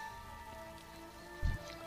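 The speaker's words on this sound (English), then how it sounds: "That rain was nuts." Rain falls in the World of Warcraft video game as a faint, steady patter over a constant background hum, with one brief soft thump near the end.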